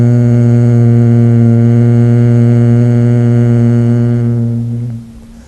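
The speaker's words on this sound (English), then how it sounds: "While exhaling, make the humming sound" A steady, sustained human hum carried on a long exhale during bee-style yoga breathing, deep and even for about five seconds before it fades out at the end of the breath.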